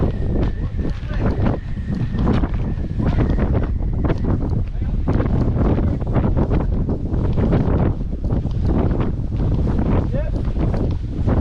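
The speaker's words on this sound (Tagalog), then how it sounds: "Malakas ang hangin, hindi tayo makakapag ano ng bilis makapag jet ski kasi tinutulak ng hangin yung jet ski." Strong wind roars and buffets a microphone continuously while riding a jet ski on open water, a steady rushing blast with water splashing and engine noise mixed in.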